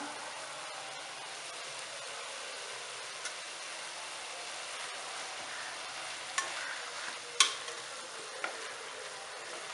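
Greens go into a pan of vegetables and fry with a soft, steady sizzle, and a spoon scraping and knocking against the pan now and then near the end.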